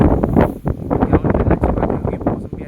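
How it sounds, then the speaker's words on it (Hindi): Strong wind buffets the microphone outdoors near farm fields, a loud continuous rumbling gust with a voice speaking over it. "हवा चल रही है बहुत ज़्यादा।"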